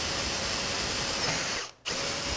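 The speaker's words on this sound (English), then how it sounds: "Make sure my fingers are nowhere where the drill can end up." A power drill boring into a clamped polycarbonate part, a loud steady whine that cuts out briefly near the end before spinning up again.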